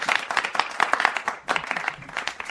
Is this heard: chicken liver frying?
no